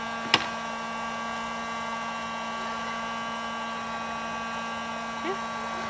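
Heat gun blowing a steady, close airy whir while warming vinyl wrap, running evenly throughout with a sharp tap near the start and a faint brief squeak later.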